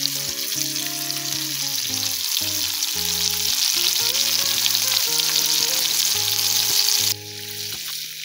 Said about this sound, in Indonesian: langsung saya cemplungkan ini ikan-ikan untuk saya goreng